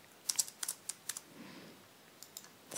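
Light, quick keystrokes on a computer keyboard, a short run of soft clicks in a quiet room, then a pause and a few more taps.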